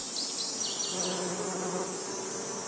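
Bees buzz steadily in an olive tree forest, a close, continuous droning hum with a few whining passes rising and falling over it.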